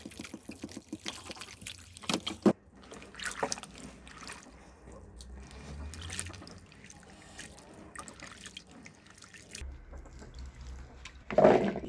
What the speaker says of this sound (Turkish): Bu tuzların gitmesi için zeytinimi bol suda yıkayacağım.